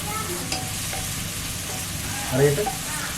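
Onions sauté in a pan for a duck roast, a close, steady sizzle with a brief burst of stirring and scraping near the end.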